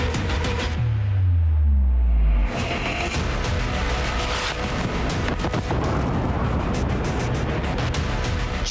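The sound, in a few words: missile attack explosions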